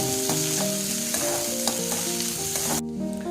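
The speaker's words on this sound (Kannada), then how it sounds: "ಈರುಳ್ಳಿ ಲೈಟ್ ಗೋಲ್ಡನ್ ಕಲರ್ ಬರೋ ತನಕ ಹುಟ್ಕೋಬೇಕು" Onions frying in a pan until light golden, with a steady close sizzle and regular stirring scrapes, accompanied by a sustained tonal hum that cuts off near the end.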